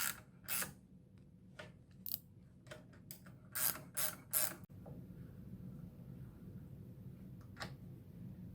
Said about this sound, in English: so I'm going to use the wrench on it